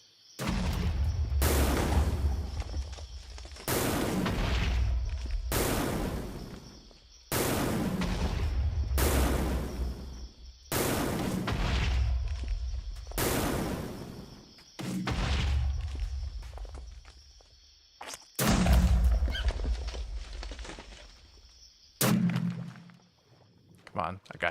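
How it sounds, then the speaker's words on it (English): Cannon in the Minecraft Ratlantis game booming repeatedly, about ten heavy blasts with long rumbling decays at steady intervals of roughly two seconds, loud and dominating over occasional voice. "It's the cannon from the rat."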